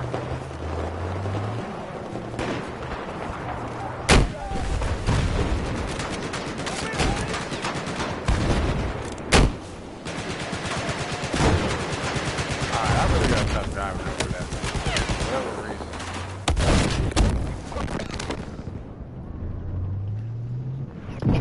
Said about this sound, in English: there appears to be an enemy machine gun